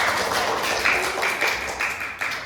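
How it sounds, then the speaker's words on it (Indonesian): A classroom of students claps together in a loud, close patter with a few sharper peaks, lasting a couple of seconds. "Tepuk tangan kembali tadi."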